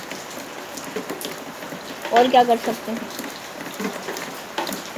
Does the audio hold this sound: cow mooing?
no